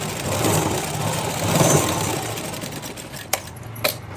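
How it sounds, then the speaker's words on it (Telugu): Sewing machine stitching a blouse, a steady mechanical whir that runs for a few seconds and then gives way to a couple of sharp clicks near the end. "ఇలా రఫ్ ఇచ్చుకొని కుట్టండి"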